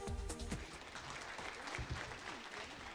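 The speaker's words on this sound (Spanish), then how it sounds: "La gente la recibió con un gran aplauso." A large audience breaks into broad, sustained applause, a dense even roar of clapping that holds steady throughout, with faint voices mixed in underneath.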